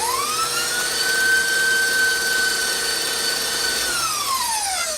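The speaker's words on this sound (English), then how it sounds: "That's why I'm using the whisk attachment to make it really nice and creamy and" An electric mixer fitted with a whisk attachment beats cheesecake batter, a loud steady motor whine that speeds up at the start, holds its high pitch and winds down again near the end.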